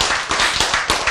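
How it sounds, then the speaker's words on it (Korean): Hands clapping in a quick, steady rhythm of about eight claps, loud and close. "이 박수 치는 폼이 점점 익숙해져 가고 있어요"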